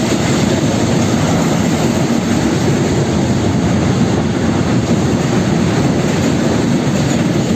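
Freight train carrying containers behind a DB class 3E electric locomotive, passing close at Czachówek station in Poland, with a loud, steady wheel rumble and rail clatter and no speech.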